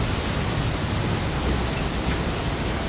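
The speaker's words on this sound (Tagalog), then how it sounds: "hindi ganong lumakas yung patak ng ulan" Light drizzle falling on a city street in Ayala, Makati, an even, continuous hiss of rain with a soft low rumble underneath, steady throughout.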